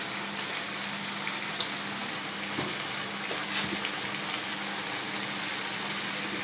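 Tomatoes sizzling in a hot pan while cooking for a roast beef sandwich, a steady, dense crackling hiss that runs throughout, close and alone with no talk.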